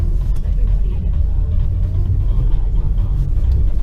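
BMW car stuck in snowdrifts with its wheels spinning and slipping: a loud, continuous low engine rumble and churning drone that holds steady throughout, close and heavy, with no clear voices.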